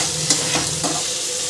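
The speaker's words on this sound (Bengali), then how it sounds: "আলু দিয়ে একটুখানি কষিয়ে নেব।" Fried potatoes being stir-fried into a prawn masala, with a steady oil sizzle and a few short scraping stirs of a spoon against the pan, no talking.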